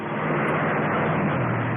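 A steady, loud Ford Thunderbird engine roar holds constant throughout, a broad rumbling drone with no pauses and no voices.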